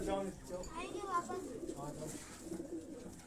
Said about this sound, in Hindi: ये देखें इन कबूतरों को माशाल्लाह।